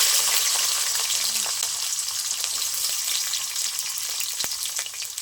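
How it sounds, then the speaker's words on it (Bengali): Peeled garlic cloves frying in hot oil, a loud, steady, close sizzle that runs throughout with faint stirring clicks and no talking. "একই তেলের মধ্যে আমি দিয়ে দেবো রসুন কোয়া।"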